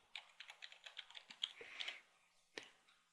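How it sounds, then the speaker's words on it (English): Fingers type an admin username and password on a computer keyboard, a quick irregular run of light clicking keystrokes, close and fairly quiet, with a couple of sharper taps near the end and no talking. "Key in our admin username and password."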